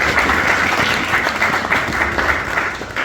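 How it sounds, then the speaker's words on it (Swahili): A church congregation at a morning revival service claps in thanks to God, a dense, steady round of applause that fills the hall without pause. "Kama unanisikia, pigia Mungu makofi ya shukrani."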